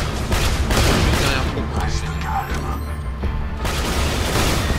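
Explosions and gunfire from Borderlands 2 co-op play, a grenade burst among a dense, continuous barrage of booming shots that holds loud for the whole stretch, with voices talking over it.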